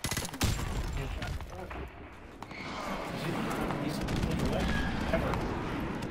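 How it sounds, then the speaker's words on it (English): Airstrike in a Call of Duty game, a dense continuous rumble of explosions and rattling gunfire that swells louder partway through, with a voice partly buried in the din. "Friendly airstrike on the way."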